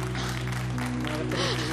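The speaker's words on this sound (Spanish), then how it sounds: "Un fuerte aplauso para ellos." Studio audience applause on a Spanish television show, a steady wash of clapping held throughout the short stretch, with a presenter's voice and background music running underneath.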